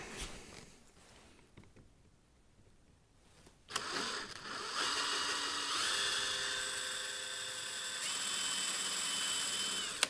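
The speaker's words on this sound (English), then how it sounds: "I'm just going to drill half-inch holes and glue those in." A power drill boring half-inch holes whirs up after a few quiet seconds and keeps spinning steadily at high speed, loud and close, with no talking.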